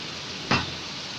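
Fish dropped into spiced masala frying in hot oil for a fish curry with tomatoes, a sudden loud sizzle burst over a steady frying hiss.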